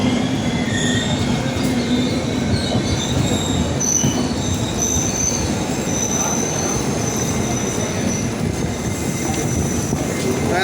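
A train rolls past close and loud with a steady, continuous roar, and its wheels squeal in high, sustained metallic tones throughout.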